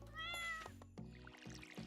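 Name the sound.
cat meowing in Stardew Valley video game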